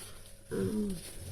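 A dog whimpers briefly in a high, wavering whine while searching for its ball under a TV indoors, a single soft cry over quiet room background.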